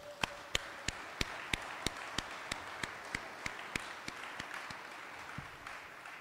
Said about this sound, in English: can we please get a round of applause for everyone's support group that got you here today?